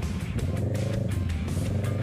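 Town street traffic in the heart of Cauayan with motorcycle tricycles, small engines buzzing and revving close by in a busy, pulsing mix, recorded from a moving motorcycle ride with no clear talk.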